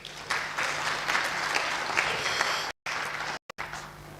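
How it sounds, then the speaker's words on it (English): A round of applause from a conference audience at an innovation week event, steady, full clapping filling the room for several seconds, with a couple of brief dropouts near the end. "You can give a round of applause to Dr."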